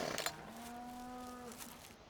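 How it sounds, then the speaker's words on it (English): A single cow lets out a long, drawn-out moo in the Farming Simulator 2017 video game. It is fairly faint and clear, with no talk over it. "that'll stop the cows coming down on it"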